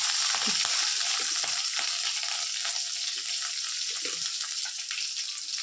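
Crushed garlic and curry leaves fry in hot oil, a steady bright sizzle with a few soft spattering pops and light stirring, close and fairly loud throughout, with no talk.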